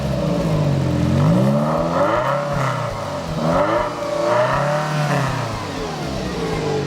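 A 1989 Ferrari Mondial t coupe with a 3.4-liter engine in the Forza racing game, revving repeatedly in rising and falling sweeps, loud and close with no talk.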